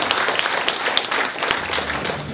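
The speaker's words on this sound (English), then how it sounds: "How about a round of applause for our first panel?" Audience applause for a panel of football coaches and players at a county football media day, a dense, steady wash of clapping at moderate distance, filling the room evenly without any talk over it.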